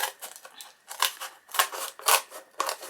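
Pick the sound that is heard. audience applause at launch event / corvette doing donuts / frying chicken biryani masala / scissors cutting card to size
scissors cutting card to size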